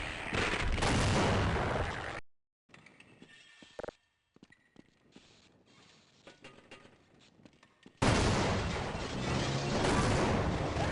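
A grenade explosion and gunfire in the video game Half-Life come as loud bursts of blast noise at the start and end, with scattered gunshots, clicks and rattles in a quieter stretch between them.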